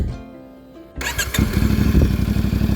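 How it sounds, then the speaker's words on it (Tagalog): After a quiet moment, a CFMOTO 450MT adventure motorcycle engine with stock exhaust cranks and fires up, then settles into a loud, steady, throbbing idle close by. "sound check lang natin saglit ang motor, para ko sa inyo yung tunog"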